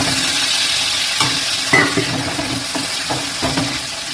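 Spices and dry fish frying in a pan with a splash of water added, giving a steady close sizzle with occasional stirring knocks and scrapes.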